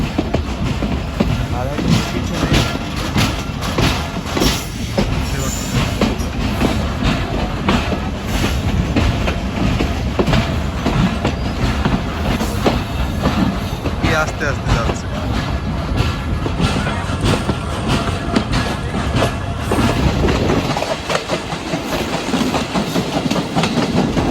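A crowded local train running on rails from Rohanpur to Rajshahi in Bangladesh gives a loud, steady rumble and rattling clatter of wheels and carriages, dipping briefly near the end before resuming.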